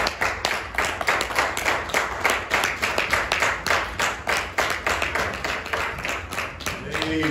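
A church congregation at a revival service claps together in a steady, rhythmic beat, loud and close, with voices mixed in under the hands.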